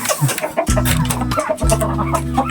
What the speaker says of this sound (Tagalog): matataba ng mga manok nila dito